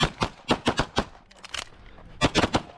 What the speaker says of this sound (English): did he get the shots off first? Let's see if he got the shots off first